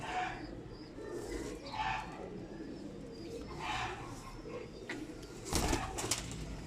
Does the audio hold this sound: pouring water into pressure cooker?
no